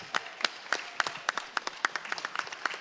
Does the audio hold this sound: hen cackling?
no